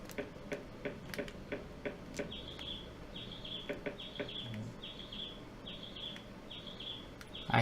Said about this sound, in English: I hear birds, but birds are nowhere to be seen.